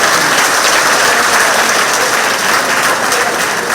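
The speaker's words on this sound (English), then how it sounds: "let's give another round of applause." A crowd applauds steadily at a monthly meeting in a community centre, dense clapping filling the whole stretch at a constant, loud level.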